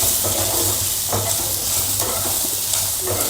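Sliced onion and capsicum frying in a pan with a little salt, a steady close sizzle broken by rhythmic stirring scrapes every second or so, with no talk.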